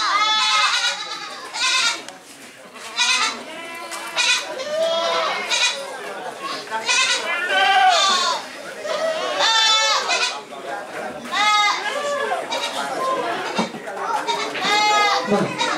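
Etawa crossbreed (PE) goats bleat over and over at a breeding show, with loud overlapping cries from several animals close by.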